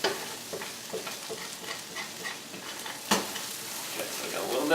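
Cashews toasting and charring in a hot pan. A steady, fairly faint sizzle runs throughout with soft stirring scrapes and one sharper clatter midway.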